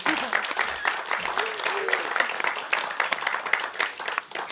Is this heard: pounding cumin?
no